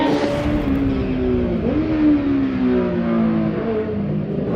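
A steady, droning engine hum with a slight rise in pitch midway, smooth and continuous, from a 600 cc inline-four motorcycle with twin under-seat exhausts idling and revving gently.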